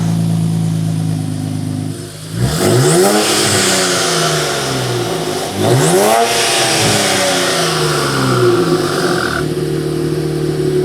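A Nissan Z fitted with an AWE Touring Edition exhaust revs loudly twice, each blip rising sharply and falling back to a steady idle between them, close to the microphone.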